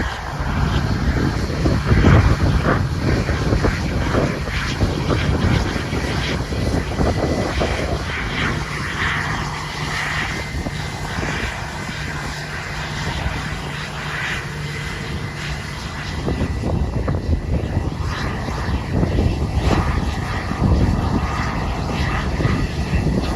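A private jet at Bluegrass Regional Airport in Lexington, Kentucky, giving off a steady, broad engine roar that holds fairly loud throughout, with some wind buffeting on the microphone.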